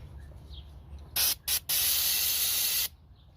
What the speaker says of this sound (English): So I'm using carburetor cleaner, throttle body cleaner. I'm going to spray a rag.